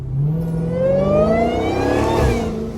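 Dodge Hellcat engine revving and accelerating loudly and close, one sustained pull with pitch rising steadily over a few seconds before easing off.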